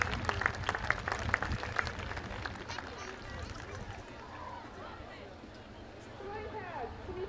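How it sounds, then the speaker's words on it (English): A crowd claps and cheers for a skydiver's landing at an outdoor drop zone, with steady applause loudest at first and easing off, mixed with crowd babble and nearby talk. "Big round of applause there for Lawrence."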